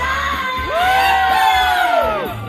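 A concert audience at a televised variety show screams, whoops and cheers loudly and continuously, a dense wall of crowd voices greeting a singer's arrival on stage.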